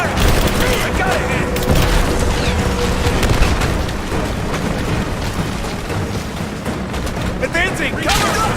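Dense gunfire and booming explosions from a firefight in Rise of the Tomb Raider, loud and continuous throughout, with shouted combat voices over the din.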